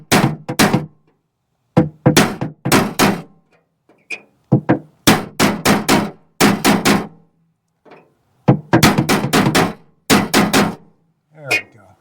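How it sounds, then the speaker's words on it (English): Hammer blows drive a small punch against the steel core of a rivet on the aluminum underskin of a Playcraft tritoon pontoon, coming in sharp clustered bursts of metallic strikes separated by pauses. "I can get in here with a small punch and try and pop that rest of that"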